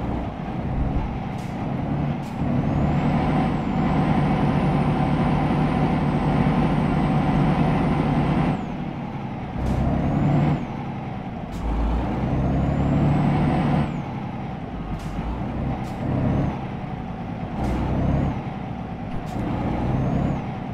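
Heavy truck engine droning loudly and steadily in Euro Truck Simulator 2, with several sharp air brake hisses and releases breaking through at intervals.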